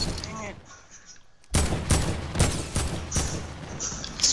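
Drum gun in a video game opens up with rapid, loud bursts of automatic gunfire that continue steadily after a quieter start, with faint player voices underneath.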